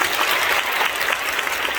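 An audience at a prayer meeting honoring Korean War veterans bursts into dense, continuous applause, loud and steady throughout with no pause.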